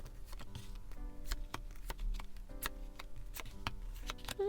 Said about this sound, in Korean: 분홍님들 카드 오픈하겠습니다